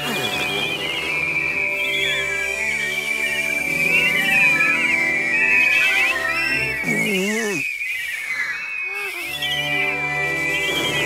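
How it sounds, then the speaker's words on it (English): Several voices whistle together in wavering high tones, overlapping and sliding, with brief vocal sounds in the middle and a low background hum. "One, two, three, whistle!"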